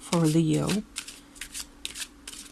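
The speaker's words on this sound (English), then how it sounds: "Now I'm just going to shuffle them for you" Tarot cards are shuffled by hand in a series of soft, riffling bursts, following a brief spoken phrase at the start.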